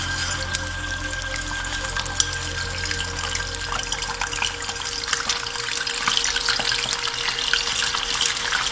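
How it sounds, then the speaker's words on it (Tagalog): Marinated milkfish (bangus) frying in a pan in a home kitchen, a steady close sizzle and crackle that holds throughout and grows a little denser toward the end, with light clinks and no talk. "So, mag-prito tag isda. Marinated bangus."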